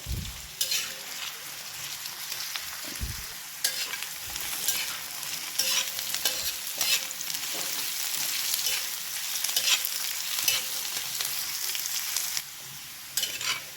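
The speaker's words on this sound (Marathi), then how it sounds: "मस्त मस्तपैकी छानपैकी आपल्याला कांदा तेलात तळसून घ्यायचं आहे" Chopped onion frying in oil in a pan for a dhaba-style matar masala, a steady close sizzle broken by repeated scraping stirs of a spoon, with no talking.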